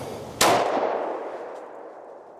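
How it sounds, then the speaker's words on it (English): A single 10mm pistol shot is fired at a plywood-backed target outdoors, one sharp loud crack followed by a long fading echo. "A few rounds of 10 millimeter."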